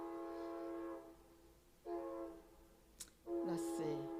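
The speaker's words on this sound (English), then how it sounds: "There's a train going by, guys." A train passing at a distance, its horn sounding in long tonal blasts with gaps between them, faint and steady against a quiet background.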